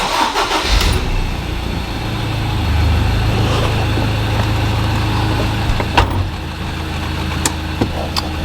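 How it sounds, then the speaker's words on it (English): A Ford Ranger engine with a turbo actuator fault, in limp mode, cranks and fires up nearby, then settles into a steady rumbling idle. "I'm just going to start this car up"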